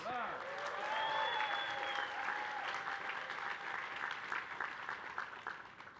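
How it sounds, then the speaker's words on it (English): Graduates at a LaGuardia Community College commencement ceremony applaud in a broad, sustained wash of clapping from a large crowd, steady and fairly distant, with a few voices and whistles rising over it. "Why don't you give yourselves a big round of applause?"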